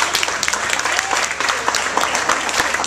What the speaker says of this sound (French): Éric Frechon, on peut l'applaudir.